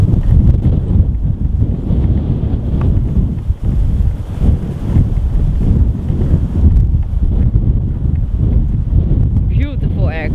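A MartinAir Boeing 747 in KLM livery lands with a loud, continuous low roar heavily buffeted by wind on the microphone, broad rumbling noise filling the whole stretch.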